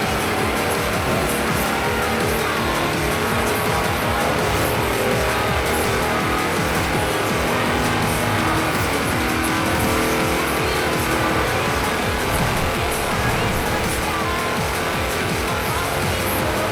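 A tractor driven flat out in Forza Horizon 4 gives a loud, steady engine roar with dense broadband road and tire noise and no gaps, continuing alone with no voices.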